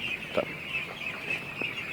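Soft clucking and chirping from several young laying ducks, a few brief calls scattered over a steady background hiss.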